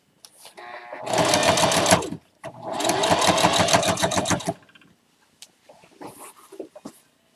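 A sewing machine runs in two quick stitching bursts, a rapid mechanical whir, then stops; faint handling noises follow.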